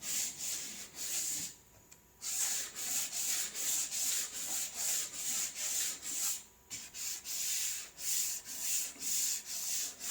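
Hand sanding with 80 grit paper on a 2006 Mazdaspeed 6 fender flare, steady back-and-forth rubbing strokes in a regular rhythm, close and fairly loud, with two brief pauses.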